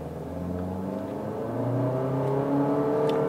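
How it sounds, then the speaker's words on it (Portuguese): A 2023 Honda HR-V EXL pulls away from a stop, its engine note rising smoothly and steadily in pitch as it accelerates, heard from inside the cabin with no talking. "Acelerando e saindo."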